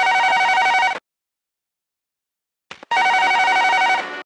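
A telephone rings loudly in two long bursts with a short silence between them. No one speaks.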